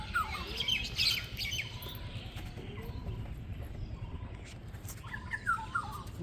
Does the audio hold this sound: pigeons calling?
yes